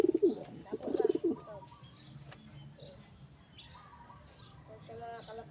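Pigeons cooing close by, two soft throaty coos at the start followed by faint chirps and rustling against a quiet background.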